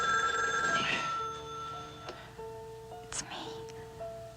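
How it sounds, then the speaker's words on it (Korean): A telephone rings with a bright electronic tone, then softer tonal beeps follow over a quiet background. "그리고 잠시 후 하트는 로즈의 전화를 받게 되죠."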